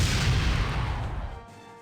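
Torpedo fire in Star Trek: Starfleet Academy, a heavy booming blast with rumbling low end that rolls on and then fades, loud and alone.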